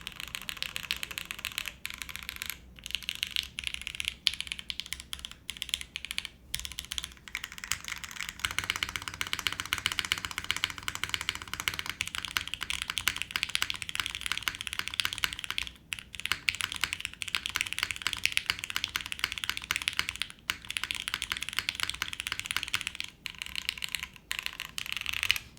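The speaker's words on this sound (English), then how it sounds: "I do think the number row and the F row have a little bit of metallic noise to it." Steady typing on a Shadow 80 mechanical keyboard fitted with H1 switches, with a dense run of close, crisp keystrokes and a few brief pauses, no voices.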